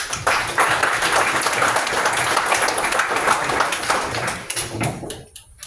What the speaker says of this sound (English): Well, let's give a round of applause.